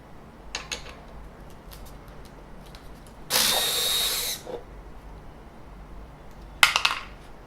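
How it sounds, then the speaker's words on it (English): A cordless electric screwdriver backs screws out of the base of a Mooz 3-in-1 printer, giving one sustained whirring burst of about a second in the middle, plus a shorter burst near the end, with faint clicks between, up close and with no talking. "I'm using the electric screwdriver today."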